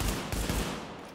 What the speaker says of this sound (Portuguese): Um tiro na cabeça.